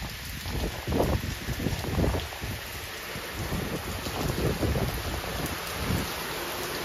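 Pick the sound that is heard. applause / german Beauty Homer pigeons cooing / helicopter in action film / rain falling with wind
rain falling with wind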